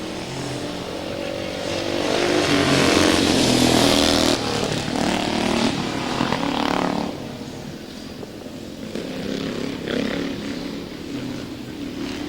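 Classic speedway solo motorcycles roar past at a 1999 race meeting, rising and fading as they race around, loud and raspy with shifting pitch, then trail off into distance.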